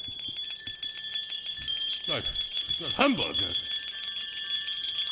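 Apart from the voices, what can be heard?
old disused bell swinging and ringing, radio drama effect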